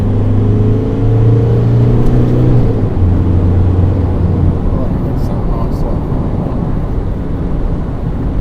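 Mazda BT-50 bakkie with a 3-litre engine accelerating hard, its steady low engine drone rising in pitch over loud wind rush for the whole stretch.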